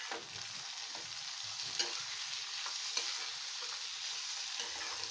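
Garlic and tomatoes fry in a pan for Indian egg bhurji, giving a steady, close hiss of sizzling with a couple of faint scraping stirs and no voices.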